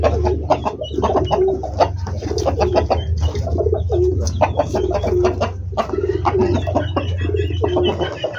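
Pigeons in a coop cooing, repeated low throaty coos close by in steady overlapping phrases, with no other voices.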